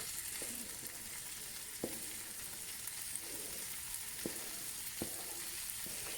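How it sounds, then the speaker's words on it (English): Bacon sizzling in butter in a pan over medium-high heat, a steady hiss broken by occasional ticks and spatters, close up with no one talking. "bacon in, and we're on a medium to high heat"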